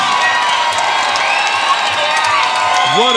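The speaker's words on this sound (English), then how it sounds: "let's have a great round of applause for both brawlers," A crowd at the Cheyenne Ice and Event Center cheers, whoops and applauds loudly after a women's boxing bout, a dense, continuous roar of voices and clapping.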